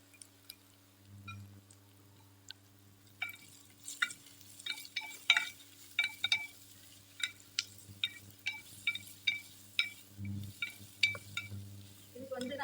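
Onions sauté in a pan for pea rice, heard as a soft sizzle under a string of quick scraping stirs from a spoon or spatula, close and fairly quiet, with a low steady hum beneath.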